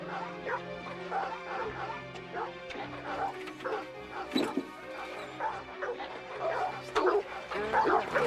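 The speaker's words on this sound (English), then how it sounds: "I'll get these dogs quieted down." Several dogs bark, yip and whimper in a 1986 film scene, a busy run of sharp barks and whining cries nearby, with a crash and a brief voice underneath the noise.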